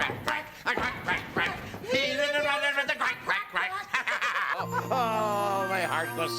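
Several voices sing a children's counting song about ducks, imitating a duck's quack in a bright, rhythmic chorus with sustained sung notes and a lower held tone at the end.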